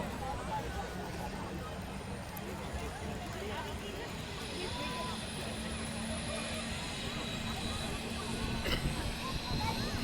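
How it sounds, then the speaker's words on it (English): A Flying Doctors helicopter departs the showgrounds at the Perth Royal Show, its steady engine and rotor roar continuous and fairly loud across the whole stretch, mixed with distant crowd hubbub. "I'm doing another video of a helicopter that's going to go back up in the sky."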